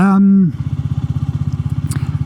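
An adventure motorcycle engine putters with a steady, rapid pulsing beat as it passes, close and fairly loud, after a brief voice at the start.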